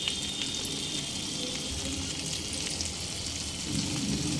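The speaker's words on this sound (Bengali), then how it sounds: "মিডিয়াম ফ্লেমে এক মিনিট আলুগুলো একটু কষিয়ে নেবো" Potatoes sauté in a pan over a medium flame for a Bengali spicy potato curry, giving a steady, dense sizzle that carries on without a break and without any voices.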